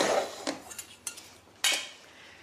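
Grated cheese, corn and black beans get stirred together in a bowl, a spoon scraping and clinking against the dish in a few short, light knocks, with one sharper clatter near the end.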